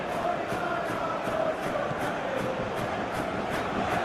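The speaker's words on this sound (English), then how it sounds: "Crowd appreciates good football all round there." A large stadium football crowd at a UEFA Champions League match, Olympiacos vs Real Madrid, applauding and murmuring as a continuous, even wash of noise.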